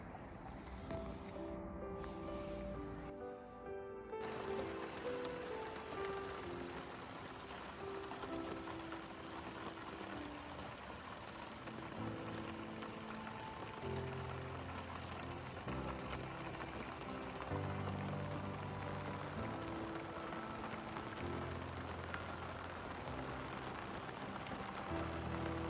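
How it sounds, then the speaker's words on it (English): Rain falling steadily on a wooden deck under a covered rain-escape system, a constant hissing patter with droplets, continuous and moderately loud, joined by a low tonal hum partway through and no talk. "Well, it's raining, dry underneath."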